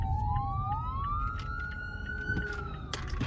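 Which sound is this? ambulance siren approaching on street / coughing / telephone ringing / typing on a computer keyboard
ambulance siren approaching on street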